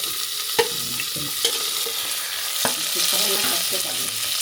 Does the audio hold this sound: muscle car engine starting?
no